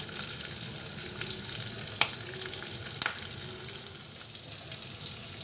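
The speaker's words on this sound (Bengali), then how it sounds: "দুটো কাঁচা লঙ্কা, ফ্রাই হয়ে গেছে।" Green chillies sizzle in hot oil with a constant soft hiss, close but fairly quiet, broken by two brief clicks of a utensil and no voices.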